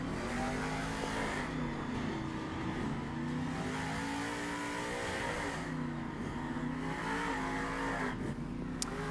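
A big monster truck rolling on BKT tires at a Monster Jam event revs its engine hard, a steady loud roar with rising and falling pitch as the tires spin, continuous and near throughout.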